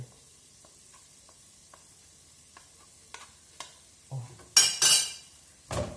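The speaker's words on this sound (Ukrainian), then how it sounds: "Ну так, трошечки добавлю томатної пасти і то все разом перемішаю" Tomato paste is stirred into food in a pan, with a faint sizzle beneath scattered light utensil taps, then a few louder scraping and clinking strokes against the pan near the end.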